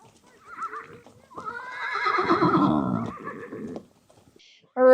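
A reservation horse at a horse shelter whinnies loudly and long, its call rising and trembling before fading, with a softer nicker before it and a brief noise at the end.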